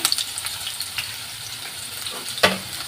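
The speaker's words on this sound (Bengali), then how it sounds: "2 মিনিটের মতন তেলটা গরম হয়ে এসে দিয়ে দেবো কুচানো পেঁয়াজ" Chopped onions fried in hot oil in a pan, a close and continuous sizzle broken by a few clinks and scrapes, with one louder stir near the end.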